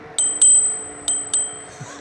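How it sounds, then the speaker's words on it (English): A bright scooter bell rings close by in two quick pairs of dings, sharp and clear with short pauses between. "I got a bell."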